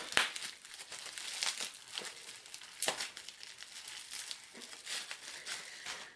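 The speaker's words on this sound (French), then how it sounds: "Donc on va ouvrir ce qui reste dans des petits paquets comme ça." Small plastic food packets from a barbecue-themed grocery box being torn open and handled, giving close, irregular crinkling and crackling with a few sharper rips, no talking.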